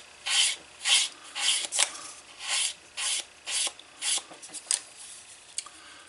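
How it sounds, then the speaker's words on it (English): Rhythmic rasping strokes of hand sanding a leather card wallet edge, about a dozen back-and-forth passes in one direction, close and fairly loud, slowing and thinning toward the end. "You just take that last little bit sanding in one direction."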